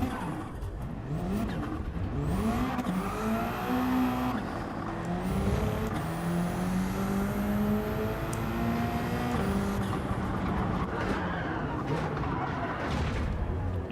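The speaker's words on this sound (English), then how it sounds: "The AI drifting." Race cars in Gran Turismo 7 rev and drift through corners, with engine notes sweeping up and down repeatedly across a busy, continuous stretch of loud motor sound, including a car drifting under AI control.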